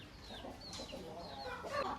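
An Abras breed rooster, tall and heavy-bodied, clucks softly at a distance over a quiet background murmur, a few faint fowl calls spread across a brief moment.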